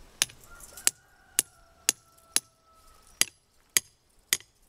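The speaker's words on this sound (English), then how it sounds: "I'm gonna take this stake and I'm gonna hammer it" A stake is hammered into the ground while a greenhouse is laid out, with eight sharp, evenly spaced strikes about half a second apart, fairly close and loud against a quiet background.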